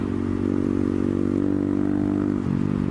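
Honda Grom motorcycle fitted with an aftermarket exhaust, riding along at a steady loud drone with a rumbling harmonic engine note throughout, a slight dip near the end.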